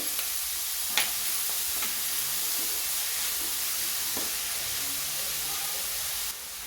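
Cauliflower fries in a pan for a tomato curry, giving a steady close sizzle and hiss with a few sharp stirring clicks and scrapes scattered through.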